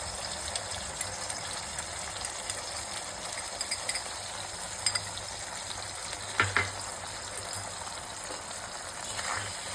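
A tomato, onion, garlic and ginger paste for alur dom fries in oil, giving a steady, fairly quiet sizzle and hiss with a few faint scrapes and clinks.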